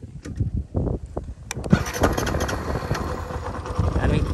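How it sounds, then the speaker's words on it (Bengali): A motorcycle in neutral, styled after the Yamaha R15M, cranks with a few uneven starter pulses and then catches into a steady, continuous engine idle, close and fairly loud. "বাইকটার স্টার্ট দিলে কীরকম সাউন্ড শোনা যায়"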